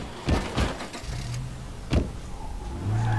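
A car in the zombie survival game State of Decay 2 starts moving off, with door thuds and short bursts early, then a rising engine drone and tonal revving toward the end, close and clear.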